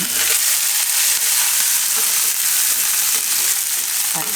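Garlic and chillies stirred into hot oil in a pan on a gas stove for a Gujarati besan capsicum dish, a steady loud sizzle and frying hiss with faint scraping of the stirring spoon.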